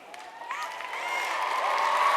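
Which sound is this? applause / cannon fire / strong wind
applause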